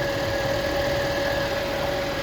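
A 2013 Chevrolet Traverse engine idles steadily as it warms up, a constant close hum with a faint whine running through it and no break.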